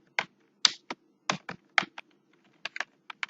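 A computer keyboard clicks under quick, uneven typing as a short category name is entered, with close, crisp keystrokes and no talking.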